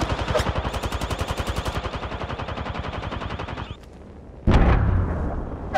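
Automatic gunfire in Apex Legends, a 3v3 arena match: a long, steady burst of rapid shots, loud and close, cuts off, then a heavy blast or shot follows after a brief lull.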